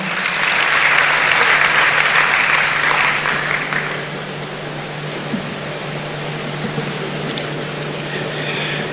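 An audience applauds at a student entrepreneurship programme launch in Ghana, loud broad clapping that gradually thins and softens over a steady hum.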